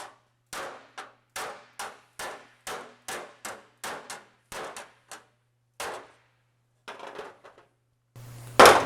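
A hammer strikes sheet metal on an Austin-Healey 3000 shroud in a steady series of sharp, ringing blows, roughly two per second, then a few lighter taps before a brief burst of louder noise at the end.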